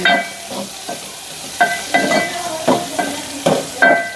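Sliced onion hisses and sizzles in hot oil for peanut sambar, with a spoon scraping and stirring the pan in quick, irregular strokes every half second or so, close and loud.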